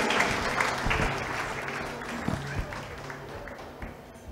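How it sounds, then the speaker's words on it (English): A church congregation at an anniversary service claps in praise, a full, moderately loud round of applause that thins out gradually, with a hum and faint voices underneath. "Let us give a clap of praise to our Lord Jesus Christ."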